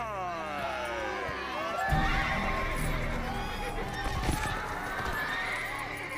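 A horse whinnies loudly with long wavering neighs, while hooves clip-clop and other sounds build underneath partway through.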